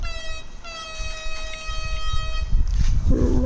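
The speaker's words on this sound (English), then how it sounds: "That grandson put an air horn on the car again." A car fitted with an air horn in the GTA video game lets out a loud, sustained multi-tone blast that continues for most of the passage, followed by rumbling engine and traffic noise toward the end.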